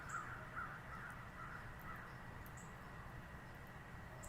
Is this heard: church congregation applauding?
no